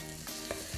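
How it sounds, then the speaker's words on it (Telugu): Tofu fries in a pan for a Korean tofu soup, giving a soft steady sizzle with faint stirring scrapes and small clicks, heard close and alone. "అది కూడా ఫ్రై అయ్యి ఒక మంచి క్రిస్పీ బెట్లాగా ఫామ్ అవుతుంది అన్నమాట"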